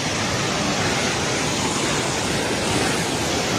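Floodwater of the Trishuli river in Nepal, submerging the Trishuli bazaar, makes a loud, unbroken roar of rushing water that fills the whole stretch, close and powerful with no pauses.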